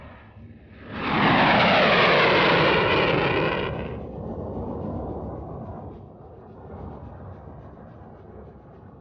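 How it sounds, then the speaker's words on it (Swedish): Saab Viggen military jets at a secret air base at night, their engines building into a loud, broad roar that holds for a few seconds and then fades to a lower rumbling wash. "I mörkret, på den hemliga flygbasen, görs nu de fyra Viggenplanen redo."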